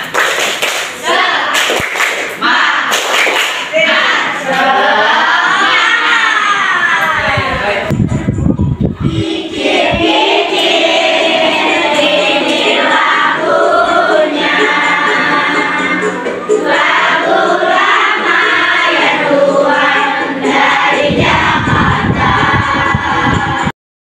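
A school class claps together in a rhythmic spirit clap, the loud, close claps mixing with chanting voices in patterned bursts that run throughout.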